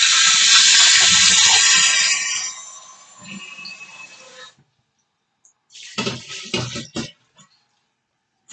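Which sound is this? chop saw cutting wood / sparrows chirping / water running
water running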